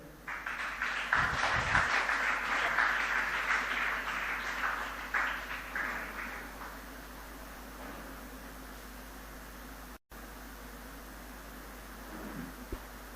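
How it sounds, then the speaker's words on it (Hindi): An audience at a motivational program bursts into applause that swells loudly for several seconds, then fades out, leaving quiet room tone. "एक बार जोरदार तालियां बजाइए।"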